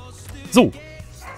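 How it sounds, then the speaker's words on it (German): A small puppy gives a single short, high yip, sharp and fairly close, rising briefly above a quiet room tone while someone speaks one word beside it. "nicht wundern, wenn ihr im Hintergrund bellen hört, wir haben heute einen kleinen Hundewelpen zu Gast hier bei uns"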